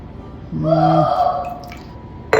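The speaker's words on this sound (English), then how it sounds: "So I'm going to add about half a cup of water." About half a cup of water poured into a pot as the base for a vegan mushroom and tofu dumpling broth, a brief close trickle with a ringing tone that lasts under a second and ends in a small clunk.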